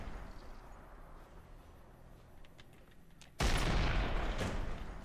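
A Fallout New Vegas Old World Blues artillery test fire opens with a quiet, hissing room tone, then a sudden loud, broad roaring blast hits and keeps rumbling until the end.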